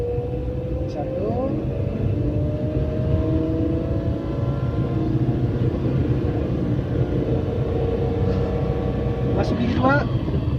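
A car engine pulls away in first gear and climbs steadily in pitch before a gear change, heard from inside the cabin, with a voice speaking over the engine.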